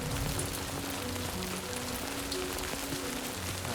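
Heavy rain pouring down in Death Stranding 2, a dense, steady hiss of drops on the ground filling the scene with low music underneath.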